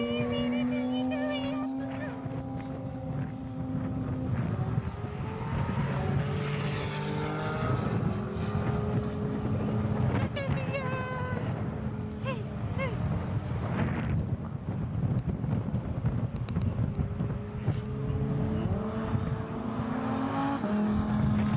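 Lamborghini and Audi supercars race in Las Vegas, engines roaring and shifting through rising and falling pitch sweeps, loud and continuous with a voice talking over them.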